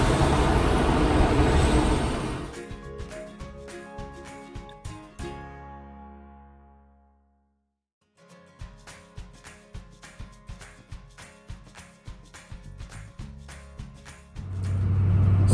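Street traffic with buses, cars and trucks rumbling and revving past, a hiss of air brakes, fading out to near silence mid-clip before engines and exhaust pulse back in a steady rhythmic drone.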